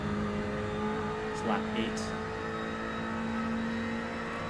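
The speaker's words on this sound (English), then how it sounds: "these guys are also winding out the revs more than I am" Ferrari GT3 Challenge race cars run on a circuit with a steady engine drone holding high revs, an in-car sound that stays even throughout, while someone speaks briefly over it.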